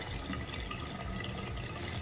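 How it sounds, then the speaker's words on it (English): Water is sprayed onto short hair to dampen it, a continuous hissing, splashy wash that stays close and steady for about two seconds with no talking. "I'm gonna get the water and we're going to get that part wet."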